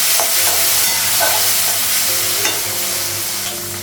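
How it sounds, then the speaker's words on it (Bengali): Black cumin, cumin and onion sizzle in hot oil in a pan, a steady close frying hiss with occasional stirring scrapes and no talk. "কালো জিরে দিলাম, মোটা জিরে দিলাম, পেঁয়াজটা লাগাবো,"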